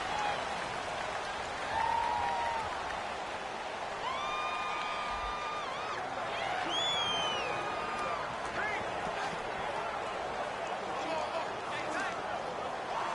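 Steady wash of stadium crowd noise from a Madden 19 game between the Bengals and the Colts, a continuous roar with whistle-like tones rising over it, loud and unbroken throughout.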